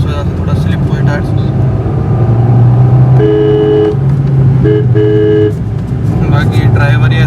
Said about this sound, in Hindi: थोड़ा सा इंजन को रेव करके देखते हैं।